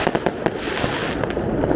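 New Year fireworks bursting in the air, a steady barrage of loud cracks and pops overlapping without a break, close and dense.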